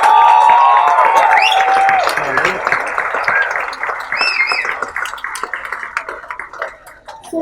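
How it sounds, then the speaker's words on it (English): An audience at a Chandigarh University talk show applauds Imtiaz Ali, with scattered, sharp claps that build after a fading musical chime and then gradually thin out toward the end. "Please give a round of applause to the rock star of"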